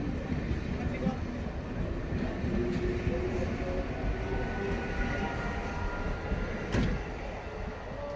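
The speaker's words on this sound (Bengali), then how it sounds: "ছেড়ে দিল শিয়ালদা গেদে লোকাল" Sealdah–Gede local train pulling out of a station in West Bengal, a steady rumbling and rattling roar that rolls on evenly throughout, with a single sharp clank near the end.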